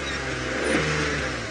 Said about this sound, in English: I just revved the engine there